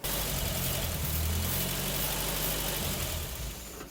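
A barn-find Triumph Spitfire, unrun for 43 years and fresh from restoration, runs steadily with a low engine rumble that stays loud and continuous before easing off slightly at the end, with no one talking.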